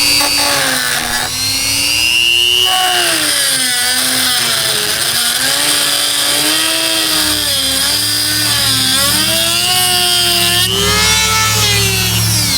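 A power tool grinds a relief notch into an aluminum rear wiper arm on a Ford Escape, a loud, continuous whining cut whose pitch rises and falls as the blade loads and frees up.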